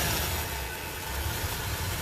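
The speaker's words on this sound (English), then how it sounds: "That's called a little revving up right there. It's called a flare, and the computer does that." A truck engine idles with a low, steady rumble and a slight computer-controlled flare in revs, constant throughout without any talking.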